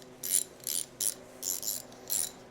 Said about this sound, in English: So all 3 bolts are torqued at 10 Newton meters.